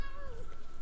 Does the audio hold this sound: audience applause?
no